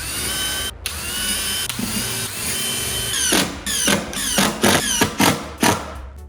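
A power drill drives screws into wood while bottom boards are fastened down for a budget woodworking build, with loud whirring bursts that speed up toward the end, separated by brief pauses and a few thuds.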